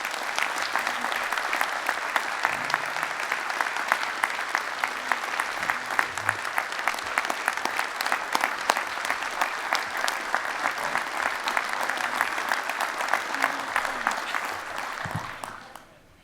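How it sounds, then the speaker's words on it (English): Delegates at a utility workers union convention applaud in a sustained, crisp wave of clapping that stays loud and even for about fifteen seconds before quickly fading out. "Let's give a huge applause to Jonathan."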